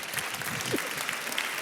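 Audience applause at an evening mentoring event, a steady dense wash of clapping throughout, with faint voices mixed in.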